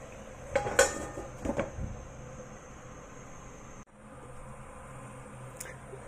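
A lid clatters onto a cooking pot of pork adobo with a few sharp metallic clinks and scrapes, followed by a soft steady simmering hiss.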